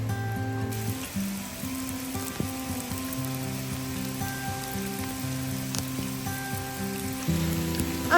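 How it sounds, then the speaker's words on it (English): Tiny hail pellets fall like rain outdoors during the Christmas season, making a dense, steady hiss and patter on surfaces with occasional sharper ticks, continuous and fairly close. "it looks like it's raining, but it's actually tiny baby hail."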